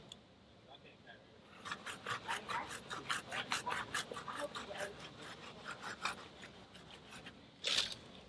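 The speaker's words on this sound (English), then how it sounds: "this brush fits right behind the caliper" Rapid bristly scrubbing of a detailing brush working behind the brake caliper of a car wheel, rhythmic close strokes that build and fade, ending in a brief louder swipe.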